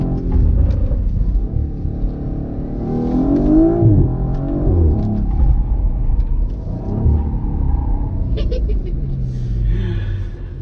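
An Audi car drives with a loud, steady engine rumble that swells as it revs, close up, with a person talking over it.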